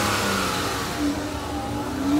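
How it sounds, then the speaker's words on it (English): A 2018 Dodge Charger SXT engine revs briefly, a mid-pitched rising surge of engine note heard up close, with no talk during it. "hit the gas on the car."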